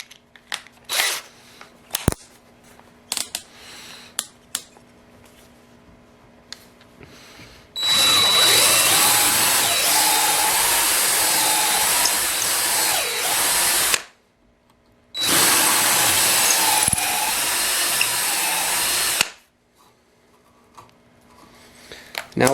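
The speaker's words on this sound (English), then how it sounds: "we're going to want to finish those out with the 5/16 size drill bit." A power drill fitted with a 5/16 bit bores into a wooden nunchuck handle in two loud sustained bursts of several seconds each, separated by a short pause, with faint handling clicks before and after.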